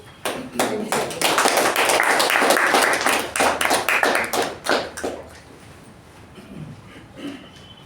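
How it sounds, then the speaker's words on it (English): Audience at a Toastmasters meeting claps for a speaker, a loud burst of many hands that holds steady, then thins out and fades to a few scattered claps and quiet room noise. "Let's give her another round of applause"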